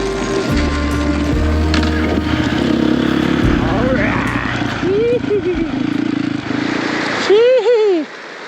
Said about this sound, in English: But I am glad that my bike started.